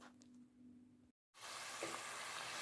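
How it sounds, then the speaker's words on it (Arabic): Sweet Ramadan dough sizzles in hot oil, a faint crackle at first, then after a brief silent gap a louder, dense, steady frying hiss with no talking. "شوفوا هيا الطيب توا في الزيت، نقلوها قلي"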